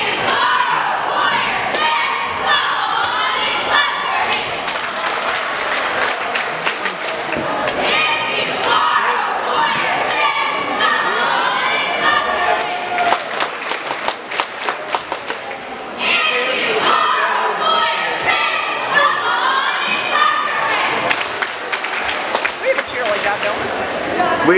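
Everett cheerleaders perform a cheer routine in a gym during a timeout at a junior girls playoff basketball game, with loud rhythmic chanting voices, sharp claps and stomps echoing over crowd noise, broken by a brief lull midway.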